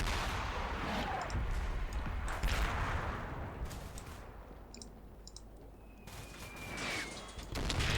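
Combat Mission Shock Force 2, a war video game, plays faint thuds of mortar fire and bursts of gunfire. Several dull booms and crackling shots are spread irregularly over a quiet, hissy background.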